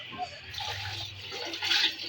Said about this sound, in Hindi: अब हम इसके अंदर पानी डाल देते हैं